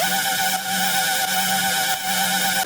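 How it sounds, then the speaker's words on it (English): A dubstep lead synth patch playing a bright, buzzy sustained tone with stacked harmonics and slight wobbling pulses, loud and steady, with no voices. "So I went ahead and used a dubstep lead patch for this and it sounds like this."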